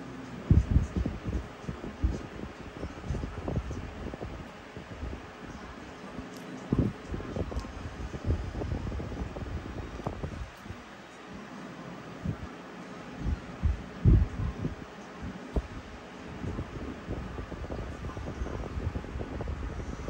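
A job site work station fan running at full power gives a steady, airy rush, with low, gusty wind buffeting against the microphone that rises and falls throughout.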